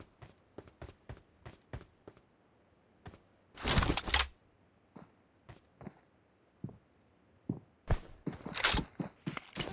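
Footsteps in PUBG on the Erangal map, a run of quiet, evenly spaced steps with two louder bursts of rapid steps or movement partway through and near the end, with no voices.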